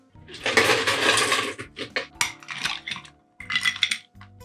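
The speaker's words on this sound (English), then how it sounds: "Add our ice." Ice cubes dropped into a cocktail glass, several clattering, clinking bursts in quick succession, close and fairly loud, with a short pause before a final rattle.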